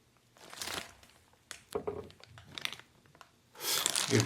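Plastic wrap on a Hanwha Eagles 2024 spring camp baseball cap crinkles close up in irregular bursts, ending in a louder sustained crumple.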